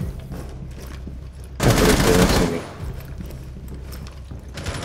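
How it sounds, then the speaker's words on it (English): A shotgun blast in the online shooter game Rainbow Six Siege on the Villa map: one loud burst of gunfire over ongoing game ambience and faint team chatter. "Oh, you can shotgun drop downs."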